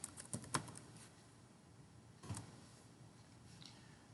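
A few quick keystrokes tapped on a computer keyboard to enter a command, soft clicks clustered near the start and another pair a moment later, faint against a quiet room.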